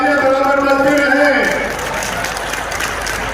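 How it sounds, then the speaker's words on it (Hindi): An audience applauds at a Mewat community gathering thanking the Chief Minister, a dense steady patter of clapping that carries throughout, with a brief sustained tone fading out in the first second and a half. "आपकी तालियां बराबर बजती रहे।"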